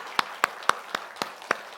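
A church congregation claps in unison to give glory to God, seven sharp, evenly spaced hand claps in a steady rhythm, close and distinct with quiet gaps between them.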